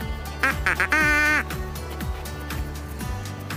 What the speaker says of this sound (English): I also want to introduce my friend, Lucky, the duck race mascot